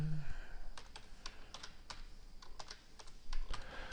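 Fingers tap on a computer keyboard in irregular bursts of separate clicks, close and soft, with a brief hum at the start.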